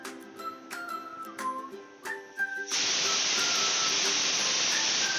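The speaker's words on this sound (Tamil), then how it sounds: "அஞ்சு விசில் வந்துடுச்சு." A pressure cooker cooking mutton curry whistles into a loud, steady hissing steam blast after a few seconds of quieter clinking kitchen sounds.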